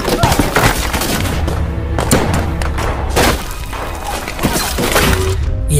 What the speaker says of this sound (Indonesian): Sontak baku tembak antara Jang Han melawan belasan tentara Jepang pun terjadi